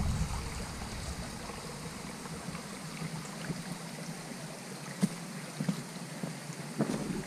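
Flowing water out in the middle of a river, a steady broad wash with wind buffeting the microphone and a few faint knocks, no talk.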